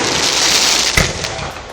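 Fireworks burst at the Nowra Show, an outdoor agricultural show, with one sharp loud report rising over a steady crackling, hissing wash of distant explosions.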